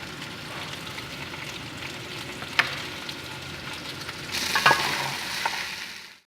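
Okra (bhindi) masala sizzles steadily as it is roasted in a pan and stirred, with a few sharp clinks of the utensil and a louder burst of frying near the end, close and without speech.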